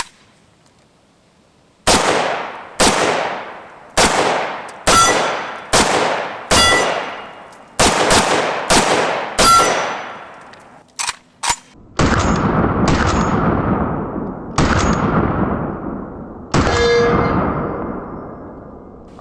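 A series of AK-47 rifle shots fired at targets downrange, loud sharp reports spaced about a second apart, then a few heavier, more echoing blasts toward the end, with no talking.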